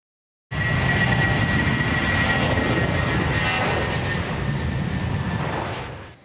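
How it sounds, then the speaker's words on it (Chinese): A jet airliner's engines roar loud and close, a broad steady rumble with a whining tone that starts abruptly and holds for several seconds before easing slightly. "喷射引擎的噪音对航空业界与渴望出国旅游的人们来说格外的悦耳"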